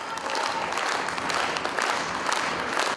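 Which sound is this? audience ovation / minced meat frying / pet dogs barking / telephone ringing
audience ovation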